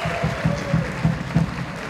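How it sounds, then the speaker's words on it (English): Audience applause for contest winners at a live string band show in a middle school, a short burst of steady clapping with a few louder pulses. "a big round of applause for our winners there."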